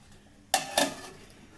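A metal lid set down on a pan of frying fish, two quick clinking knocks close by, a short ringing tail after each, against a quiet kitchen background.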